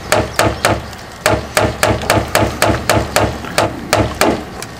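A hammer strikes a rivet to drive it out of a homemade wheel cover, about fourteen sharp metallic blows in a quick, fairly even rhythm, loud and close, with no talking.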